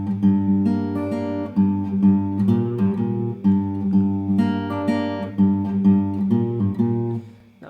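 Guitar plays a riff, close and clear, with a rhythmic run of plucked notes and pull-offs repeating twice and fading at the end.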